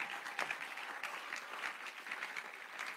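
A church congregation claps in acclaim of God, a dense, steady round of applause from many hands that keeps going without a break, moderately loud and heard alone.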